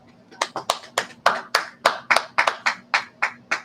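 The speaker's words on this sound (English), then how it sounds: "Let's clap that up." About fourteen crisp, sharp hand claps ring out close by in a steady, even rhythm in a Harlem, New York class, with only a faint background hum between them.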